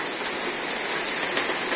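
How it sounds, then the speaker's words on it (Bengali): Rain pours during a sudden storm, a dense, even hiss of falling water that stays loud and constant from start to finish. "বৃষ্টি"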